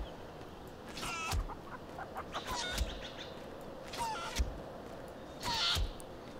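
Chickens in The Bard's Tale video game give several short bursts of clucking and squawking over a low, steady background hum, each burst separated by a few quiet seconds.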